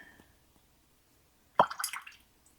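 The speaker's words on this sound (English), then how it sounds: "I'm going to splat a little bit of green." A small splat of green watercolor paint and water flicked onto paper, a brief wet plop and spatter standing alone in near silence.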